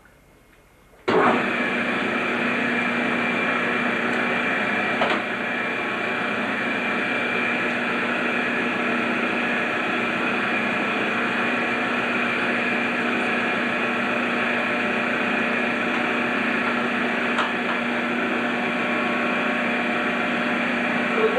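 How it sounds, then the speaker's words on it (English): A Fontaine ski tuning machine with an automatic beveler switches on after a second of quiet, then runs with a steady mechanical whir and hum that stays constant and close, with a couple of faint clicks along the way. "This is the only one of its type in Whistler right now, the Fontaine ski tuner."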